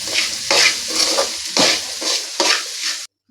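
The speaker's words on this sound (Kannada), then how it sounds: "ಹಾಕ್ಬಿಟ್ಟು ಕೈ ಆಡೋಣ." Turmeric powder is stirred into a sizzling oil tempering in a pan for avarekalu chitranna, giving loud, close frying hiss with repeated scraping strokes and a brief stop at the end.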